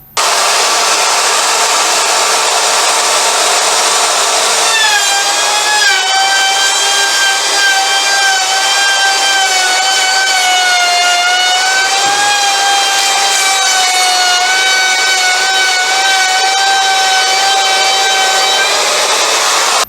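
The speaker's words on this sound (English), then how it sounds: "so I'm going to go ahead and cut these dovetails" A handheld router cuts dovetails in wood: a steady, loud high-pitched whine runs throughout, with the tone rising and shifting as the bit engages the stock, alone with no talk.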